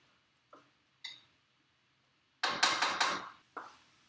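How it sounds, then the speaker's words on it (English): A spoon stirring chopped vegetables for chili in a pot: a few light taps, then a cluster of quick scraping clinks, and one last tap, close and quiet with no talking. "I want to give it a little stir."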